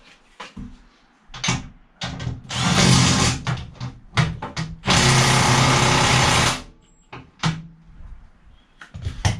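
A power tool bolts a seat into a VW Transporter T5 van being converted to a campervan, with two long loud whirring runs of the tool between sharp clunks, knocks and rattles of metal parts.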